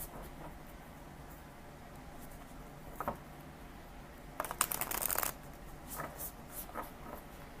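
Tarot cards shuffled and handled close by during a live reading, a quiet papery riffle with soft taps, rising to a brief louder burst of shuffling before settling back to faint rustles.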